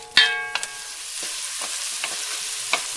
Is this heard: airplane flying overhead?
no